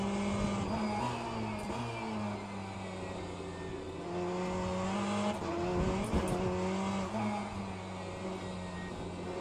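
Race car engine in the sim racing game Le Mans Ultimate, a steady deep drone with rising and falling revs and brief tire squeal, continuous and fairly loud throughout.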